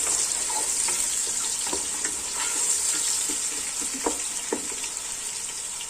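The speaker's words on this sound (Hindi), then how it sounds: "हम डालेंगे पहले प्याज डालेंगे और इसको हम करेंगे लाइट ब्राउन" Onions frying in oil for chicken pulao give a constant bright hiss with faint crackles and occasional stirring knocks, moderately quiet and steady throughout, with no voices.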